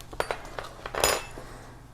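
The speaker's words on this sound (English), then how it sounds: "mix that all in nicely" A utensil mixes seafood crab dip in a bowl, giving a few quiet, close clinks and scrapes against the dish, with one louder stirring scrape midway.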